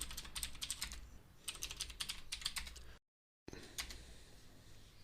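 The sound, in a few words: typing a command on a computer keyboard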